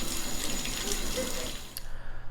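Hot water running steadily from a tap into a sink for soaking a Gourck Rucker 3.0 before dyeing, a continuous close splashing rush with no talk.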